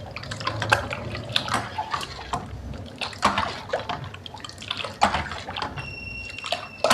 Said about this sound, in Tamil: இந்த கரைச்சி வச்சுருந்த வாட்டர்மெலனை ஊற்றி மிக்ஸ் பண்ண போகிறோம்.